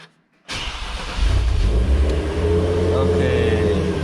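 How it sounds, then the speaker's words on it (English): A supercharged 3.8-litre Hyundai Genesis Coupe with active exhaust cranks and fires up after a brief silence, then settles into a loud, deep idle close by. The rumble holds steady to the end. "Let's start the car."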